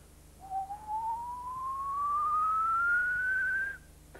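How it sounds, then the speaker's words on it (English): A single clear whistle slides slowly and steadily upward in pitch for about three seconds, over a low background hum. "As the pitch of my whistle went higher, the sound waves got closer together."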